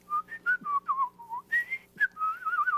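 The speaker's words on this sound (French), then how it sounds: "je suis capable de siffler des mélodies" A person whistles a lively melody alone, a quick run of bright, clear, wavering notes with short pauses between phrases, close and fairly loud.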